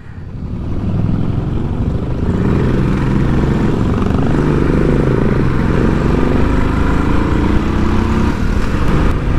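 Motorcycles race uphill on a winding road to Kolli Hills, engines droning loudly and steadily with rising pitch sweeps as they accelerate, heard close throughout.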